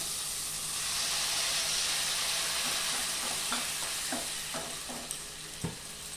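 Water poured into spice paste frying in a pan for a raw banana kofta curry sets off a loud, steady sizzle that fades slowly, with a few stirring scrapes and clinks near the end.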